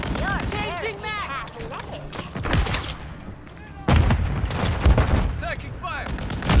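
Rapid gunfire rattles through a Call of Duty match in dense bursts with loud shots and a break in the middle, while players talk over the shooting.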